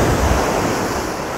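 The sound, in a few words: stormy Black Sea waves crashing on Crimean shore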